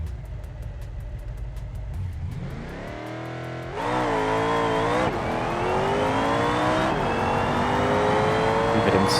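A modded car in the BeamNG driving game revs hard in sport mode, its engine note climbing in pitch, dropping between gear shifts and surging again, loud and continuous with no voices.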